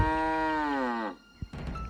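A single long, loud cow moo with a rich harmonic tone, falling slightly in pitch, followed by a brief thump and some rustling noise.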